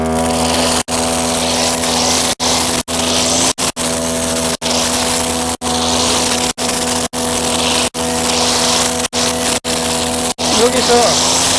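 A brush cutter trimmer engine drones steadily at high revs while cutting grass between landscaped shrubs. Its line strikes repeatedly, giving a loud, continuous whine broken by sharp, regular dips.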